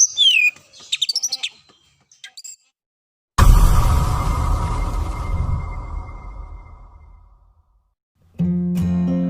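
Sharp magpie robin chirps and whistled song notes at the start, then a loud rushing noise that fades out, and a short burst of sound at the end.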